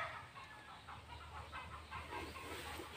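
Soft, scattered clucking of chickens at a distance as they are taken from their coop, over a low outdoor rumble, with a sharper sound right at the end.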